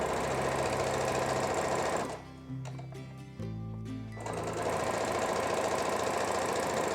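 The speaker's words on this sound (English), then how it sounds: "I'm gonna fold the piece in half and then sew it together with that 1 centimeter seam allowance" A sewing machine stitches a thin folded fabric strap with a one-centimetre seam, running in steady dense bursts that pause briefly mid-way, then resume loud and continuous.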